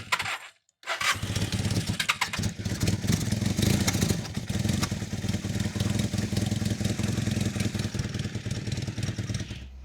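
A Honda CB350 motorcycle engine is heard during carburettor adjustment, cutting out briefly near the start and then idling with a rough, continuous mechanical rumble and clatter close by.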